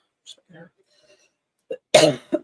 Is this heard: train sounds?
no